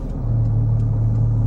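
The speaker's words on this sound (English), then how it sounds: "And if I was to put on the exhaust," Porsche 911 GT3 with its exhaust opened up, idling with a steady, deep low rumble that holds loud and constant throughout, no voices over it.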